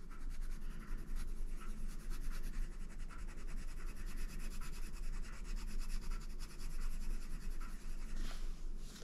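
A Castle Arts pastel tint pencil scratches steadily across paper while laying down a second layer of green on a flower, a close, continuous dry rubbing with fine rhythmic strokes and no talking.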